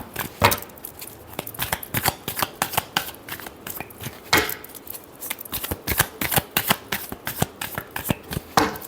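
A deck of tarot cards is shuffled by hand, giving rapid, crisp riffling and flicking bursts that repeat closely and loudly throughout with no one speaking.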